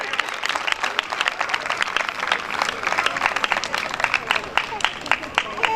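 A church program crowd claps steadily as guests are honoured on stage, the dense patter of applause running throughout with a voice talking over it.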